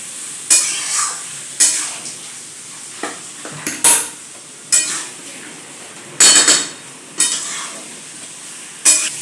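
Radhuni chicken fries in a pan over a medium flame under a quiet sizzle, with about nine sharp, close stirring scrapes of the spatula against the pan at a steady, unhurried pace.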